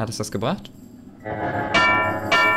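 A bell struck with a club in the adventure game Edna bricht aus rings out twice with bright, sustained tones late in the moment, following a short spoken line.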